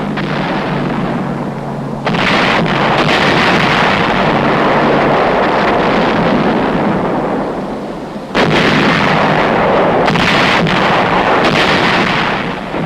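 Heavy WWII artillery bombardment of the fortified island of Cézembre: loud, continuous rumbling barrage with sharp blasts renewing around two and eight seconds, sustained and dense throughout with no voices.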